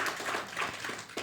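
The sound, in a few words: congregation applauding in church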